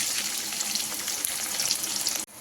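Onion and curry leaves fry in hot oil for a pepper mushroom fry, a steady close sizzling hiss that runs evenly and then cuts off abruptly just before the end, with no voices.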